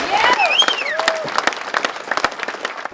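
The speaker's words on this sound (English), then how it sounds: "And I think we should just give a round of applause right now for that." An audience at a veterans' Honor Flight fundraiser bursts into loud applause and cheering, dense clapping mixed with whoops and whistles from the crowd, fairly close.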